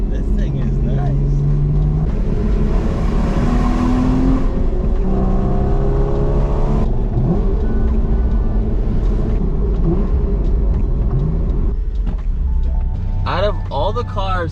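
Inside a Porsche Cayman S taking corners, the engine note climbs and falls through several shifts, loud and constant, with the driver speaking over the drone.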